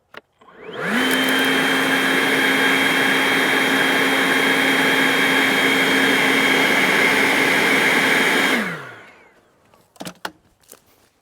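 A 40-volt battery blower roars steadily into a pile of firewood for about eight seconds, loud and close, then winds down, followed by a few faint knocks.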